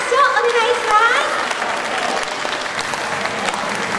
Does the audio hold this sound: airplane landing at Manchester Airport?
no